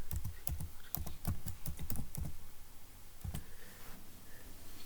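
Quick bursts of keystrokes on a computer keyboard as a file name is typed in Windows 10, clustered clacks in the first half followed by a pause and a few more taps, close and clear with no talk.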